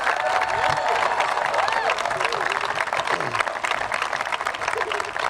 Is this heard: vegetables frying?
no